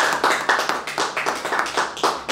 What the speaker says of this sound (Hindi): मैं चाहूंगा जोरदार तालियां इस बात पर बजाएं